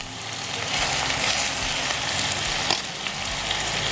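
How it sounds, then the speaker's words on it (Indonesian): Chicken sears in a hot pan, browning in oil with a steady, dense sizzle that stays loud and even throughout, with a small pop near the end and no voices. "Jadi ini kita mau goreng atau seared ayamnya tuh sampai sedikit browning kayak gini, sedikit kecoklatan."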